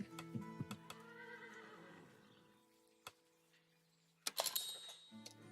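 A Basaltian horse in a video game lets out a faint, drawn-out whinny amid game clicks and ticks, followed by a short louder burst near the end.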